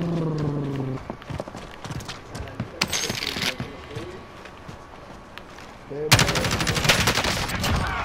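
Gunfire in a video game, with rapid machine-gun bursts and shots rattling over running footsteps, loudest in a dense burst near the end.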